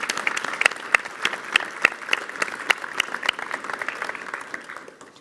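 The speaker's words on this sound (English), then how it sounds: "we give them a round of applause" An audience at a school prize giving claps warmly, a dense wash of applause with a few louder individual claps, sustained for several seconds before fading out at the end.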